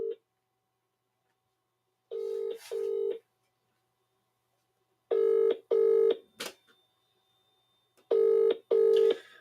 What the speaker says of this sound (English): We're going to try and give him a call now and see if he's answering.